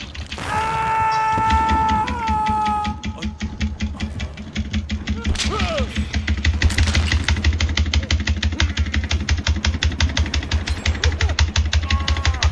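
A generator running in a video game: steady, rapid mechanical chugging with a regular knocking rhythm that holds at a fairly loud level throughout, with tonal sounds near the start.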